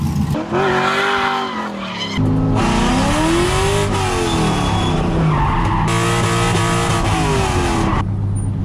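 A Corvette Z06 coupe with loud straight pipes drifts with a hand brake, its engine roaring and revving in rising and falling sweeps while the tires squeal and skid continuously, close and loud.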